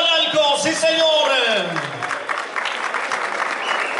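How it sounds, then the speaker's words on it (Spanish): Crowd applause at a rodeo, starting under a loud announcer's voice over the PA, then a scattered round of clapping and cheering as the speech fades. "le brindamos un doble aplauso al Niño Estrella de Tlalmalalco"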